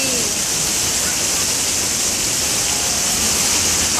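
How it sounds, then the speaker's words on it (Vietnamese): Heavy rain pours down in a steady, dense broadband hiss that fills the whole stretch at close range, constant and loud with no breaks. "Wow, mưa thiệt là lớn quá đi."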